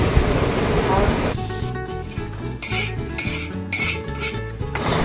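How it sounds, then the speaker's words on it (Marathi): Dried coconut is stirred and roasted on a griddle for a Solapur-style mutton thali, with metal scraping and clinking against the pan over a soft sizzle, fairly close and busy throughout. "आधी तव्यामध्ये सुकं खोबरं भाजून घेते."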